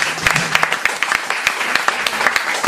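An audience at a benefit concert claps for a guitarist, a lively burst of many hands with some sharp individual claps standing out, close and moderately loud, with a faint voice briefly underneath.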